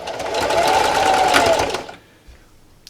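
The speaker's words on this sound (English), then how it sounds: "I have my needle right where my first pin was, and I'm going to backstitch." A sewing machine runs a backstitch at the start of a quarter-inch seam in cloth, a loud steady mechanical whir for about two seconds before stopping abruptly.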